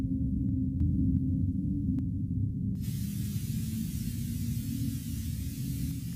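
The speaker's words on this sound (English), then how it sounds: "White noise." A low steady hum comes first, and partway through a broad white noise hiss of static sweeps in and stays constant under it, with no voices.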